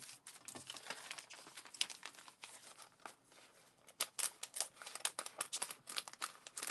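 Leftover craft packaging is crinkled and cut during a live crafting session. Close, quiet rustling and crumpling comes in irregular bursts, with sharper snips and crackles growing denser toward the end and no voices.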